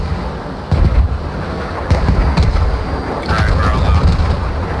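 BM-21 rocket artillery firing in the game Squad: repeated heavy booming launches and rumbling blasts in a loud, sustained barrage, with a voice talking over it.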